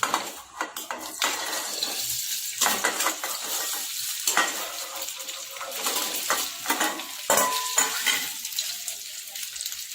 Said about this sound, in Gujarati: હવે તેલ ગરમ થઈ ગયું છે, આપણે ફ્રાય કરી લઈશું એને।